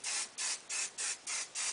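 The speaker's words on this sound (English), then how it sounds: "I spray, kind of scrunch it a little, mess it up a little as I spray it" Hairspray from an aerosol can misted onto hair, six short, even bursts of hiss in a quick regular rhythm, close to the ear.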